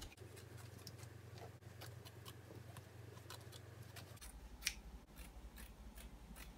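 Scissors snip steadily through upholstery fabric while an RV couch is being reupholstered, a quiet run of close, rhythmic cuts with a sharper snip near the end.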